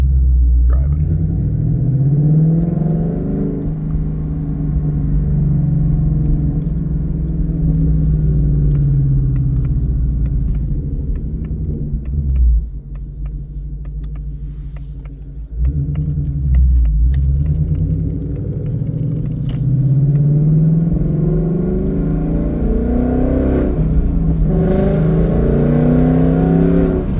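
A Ford Mustang Dark Horse with a Corsa Xtreme exhaust drives in track mode, its loud, deep exhaust rumbling and rising and falling with the revs through the gears, close and continuous throughout.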